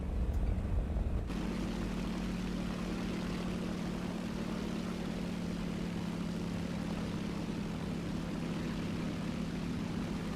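Steady propeller aircraft engine drone in a War Thunder air realistic battle, a constant loud hum that holds throughout after a brief different sound at the start, with no talking.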